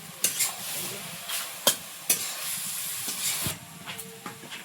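Cabbage and prawns stir-fried in a pan, soft sizzling broken by several sharp scraping clacks of a spatula against the metal, close by and without talk.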